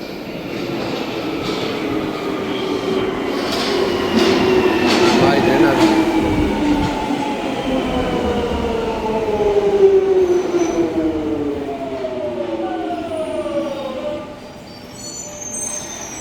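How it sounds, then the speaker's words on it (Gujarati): A London Underground train rumbles into the station, its brakes squealing in long falling tones as it slows, with a station crowd murmuring. "મારી ટ્રેન આવે છે જો"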